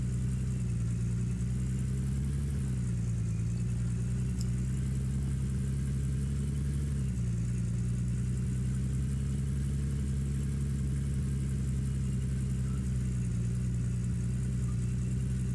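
Car engine in the Gold Rush video game pulling away, with a steady mid-pitched hum and low drone. Slight pitch shifts come with gear or throttle changes, and the sound stays continuous and fairly loud with no talking.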